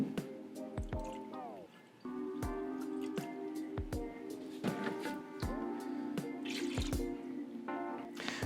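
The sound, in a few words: distilled water poured into a beaker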